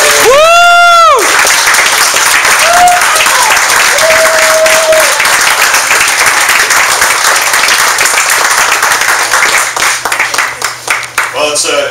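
An audience at a networking meeting in Modesto applauds to welcome a speaker: sustained dense clapping with some cheering, steady and loud before tapering off, while a few tonal whoops sound over it early on.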